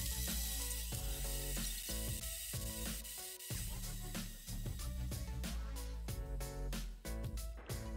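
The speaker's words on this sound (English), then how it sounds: "And blitz it for about 2 minutes." A blender blitzes oats, pumpkin puree and other pancake batter ingredients with a loud, close, grinding mechanical whir that stutters and pulses as the mixture churns, continuous with no talking.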